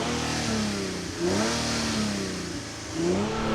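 A Nissan 370Z fitted with an aftermarket exhaust, heard from the front at the intake, revs in two strong blips from idle, the engine note swelling and falling back each time, loud and close.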